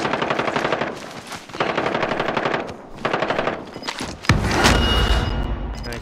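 Automatic and rapid gunfire from the Call of Duty: Modern Warfare video game, with several dense bursts of machine-gun fire separated by short gaps, ending in a louder blast followed by a sustained roar.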